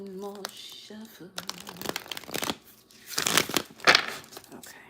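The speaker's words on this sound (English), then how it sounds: "One more shuffle." Tarot cards shuffled in rapid crinkly bursts, several rounds of riffling and slapping, close up, with a voice speaking briefly at the start.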